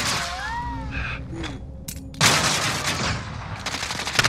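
Rapid gunfire bursts from a first-person shooter game, an online match with a riot shield in play, crackling loudly in close bursts over game noise while players talk.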